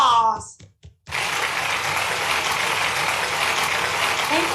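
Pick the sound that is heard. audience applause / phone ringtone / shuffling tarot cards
audience applause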